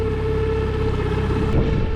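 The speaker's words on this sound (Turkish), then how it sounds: "Motorun gidişi sağlıklı. Düzgün gidiyor." A new 9.9 hp long-shaft outboard motor on a small boat runs at low speed with an even, close, steady drone that holds constant and sounds smooth.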